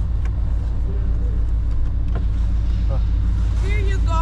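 An OBS pickup truck idles with a newly fitted loud exhaust, giving a deep, steady rumble close by. People talk briefly over it.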